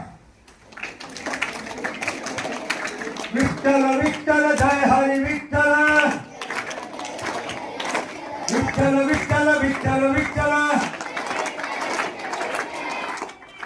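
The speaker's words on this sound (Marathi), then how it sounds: "टाळ्या वाजून म्हणा" Group of children chanting a devotional refrain in unison, with rhythmic hand-claps marking the beat through two loud sung passages separated by a short pause.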